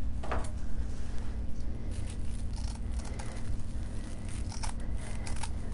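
Wiss scissors snipping through decorative mesh for a garland, a few crisp cuts near and fairly loud over a steady low background hum.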